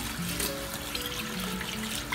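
Hot water trickles and splashes into a bowl of rice set to soak for sticky rice, a brief, steady close-up pour with a gentle watery wash.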